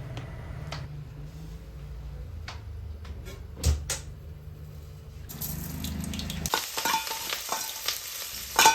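Cinnamon, cardamom, ginger, green chilli and garlic being sautéed in coconut oil in a clay pot for a Kuttanad-style duck curry, a low steady sizzle with scattered scrapes of stirring, turning brighter and hissier partway through.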